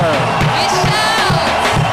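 Church congregation raising an acclamation, a mass of voices shouting and cheering together with rhythmic low thumps, loud and sustained across the whole moment.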